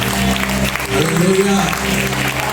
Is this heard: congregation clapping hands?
yes